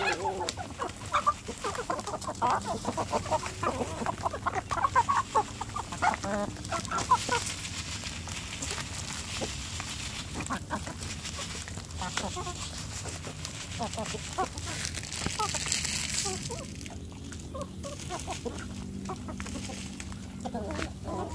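Free-range village chickens cluck and chatter close by while being fed leftover rice and bran, with bursts of clucking throughout and a person talking at times.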